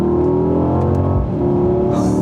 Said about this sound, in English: the exhaust note, I'm gonna go ahead and downshift a little bit so you can just hear that again